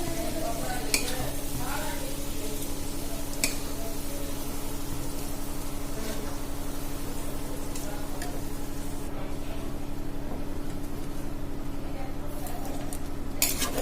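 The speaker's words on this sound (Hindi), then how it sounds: "अब हम अच्छी तरह एकरा मिला लै छियै।" A spoon steadily stirring masala into rajma, a kidney bean curry, in a pan, with a continuous sizzle and occasional scrapes and clinks against the metal, close and even throughout.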